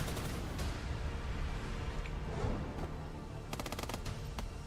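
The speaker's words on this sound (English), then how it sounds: "That's the new SMG." Rapid bursts of submachine-gun fire in a first-person shooter, dense rattling volleys over a busy game backdrop, with a quick string of sharp shots near the end.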